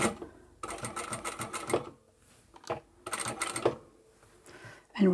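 A sewing machine stitches straight across four stacked fabric layers, running in two fast, steady bursts of rapid needle clatter separated by a short pause, close and alone.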